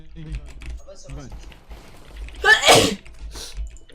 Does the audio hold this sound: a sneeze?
yes